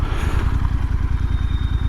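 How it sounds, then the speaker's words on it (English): A motorcycle engine idles in neutral close by, a steady low rhythmic chugging pulse with a faint high whine above it and no talking. "I'm going to turn the engine off and let's see what happens."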